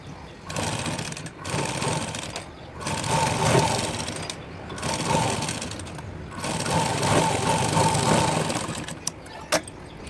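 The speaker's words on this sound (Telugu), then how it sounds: "మళ్ళీ టాప్ స్టిచ్ చేసేద్దాం" A sewing machine top stitching a plain blouse runs in steady whirring bursts, stopping briefly between seams, loud and close with no voices.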